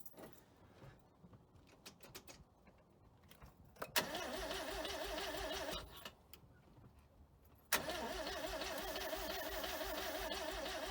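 A 13B rotary engine swapped into a 1985 Mazda RX-7, carburetor empty of gas, cranks with a fast, whirring starter rhythm in two long attempts, loud and close, with some clicks and rattles in between.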